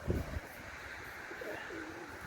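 Pigeons cooing at close range, a soft low burst of coos at the start that fades into a steady outdoor background hum.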